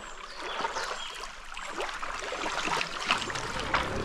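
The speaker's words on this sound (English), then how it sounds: "Just hear the birds and the water." River water flows and splashes gently nearby in Montego Bay, Jamaica, with a soft continuous rush, while a few faint bird chirps sound near the end.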